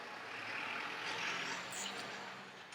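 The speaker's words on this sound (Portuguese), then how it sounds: "o caminhão passando." A truck passes outside, a broad, muffled road rumble that swells and fades over a few seconds at a moderate distance, with a faint high squeal near the end.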